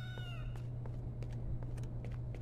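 A cat meows in the game S.T.A.L.K.E.R. Shadow of Chernobyl, a short drawn-out call at the start followed by scattered game clicks and taps over a steady low hum.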